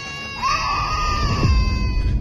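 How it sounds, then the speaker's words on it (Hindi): A child's high, strained scream rises and holds for under two seconds, loud and close, over a rough low background, with no talking. "उसके तीनों बच्चे चीख रहे थे।"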